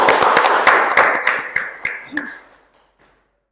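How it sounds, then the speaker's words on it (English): A small audience at a student competition claps briskly for a couple of seconds after a performance, the applause thinning out and fading to a few last claps and then silence. "Everyone, give applause."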